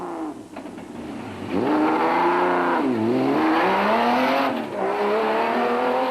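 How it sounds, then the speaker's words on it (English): A mud-splattered Zarko Magnum rally car with a big Chevy engine at the Eastern Cape 500 revs loud and close, its engine note rising and falling through repeated accelerations over about six seconds. "The Silwalds in their mud-splattered Zarko Magnum with its big Chevy engine were chasing after the Atlas Copco in second place"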